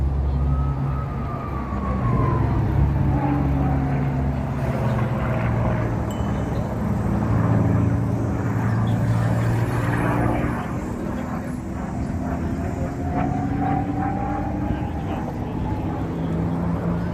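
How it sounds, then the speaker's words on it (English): A V12-engined airplane performing at an air show, its loud droning engine note rising and falling continuously as it passes and maneuvers, with no talk. "So it has a V12 motor, which is making that amazing sound."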